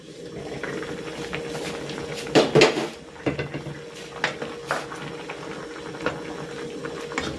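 A lid clattering onto a metal cooking pot of vegetable soup with eggplant, a sharp clanking pair of knocks midway followed by smaller rattles of cookware, close and fairly loud over quiet kitchen background.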